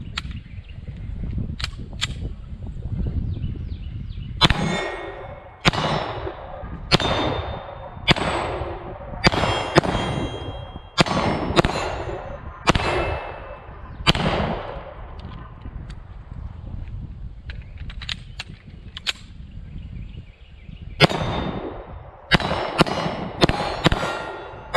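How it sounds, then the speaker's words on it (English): An S&W Equalizer 9mm pistol fitted with a Holosun optic fires two full magazines on a range: sharp, close, loud shots, some spaced and some in quick pairs, with a short pause between the magazines. "We'll put our first two full mags through it"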